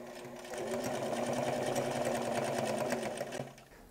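A sewing machine stitches a rectangle around a welt pocket on a bomber jacket, running in a steady fast whirring rattle up close for a few seconds before slowing to a stop.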